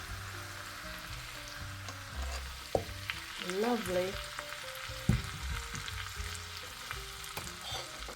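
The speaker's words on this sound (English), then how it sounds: "Oh, listen to that sizzle." Hot Sichuan chilli oil poured through a sieve sizzles and crackles steadily up close, with a few clinks and a brief spoken word over the frying.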